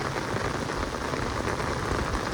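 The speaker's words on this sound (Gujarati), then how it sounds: "અને વરસાદ પણ ચાલુ છે." Heavy rain pours steadily onto surfaces during a strong downpour in Kraankach, a dense, unbroken wash of close, loud drumming with no voices.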